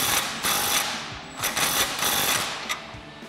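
An impact wrench with a 15 mm socket snugs exhaust clamps on a Jeep Wrangler JK's Dynomax Super Turbo axle-back exhaust, firing in several short rattling bursts separated by brief pauses, close and fairly loud.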